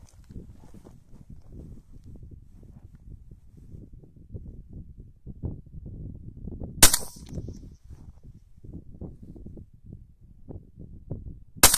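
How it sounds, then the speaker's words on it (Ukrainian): A shotgun fires a 28 g slug at an armor plate outdoors: two sharp, loud single blasts several seconds apart, separated by low rumbling wind and shuffling, with no talking. "Ну, значить, стріляємо пулею лі, попробуємо попасти нею."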